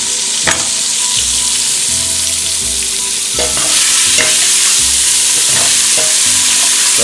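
Onions and venison fry for a goulash in a loud, close, steady sizzle, broken by a few sharp scrapes and knocks of a utensil stirring the pan.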